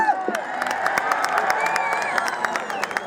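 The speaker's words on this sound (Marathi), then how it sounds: "पब्लिकला जरा टाळ्या करू दे जरा" A crowd at an open-air wrestling match claps and cheers, bright scattered claps over a broad roar of voices and whistling, fairly loud and sustained throughout.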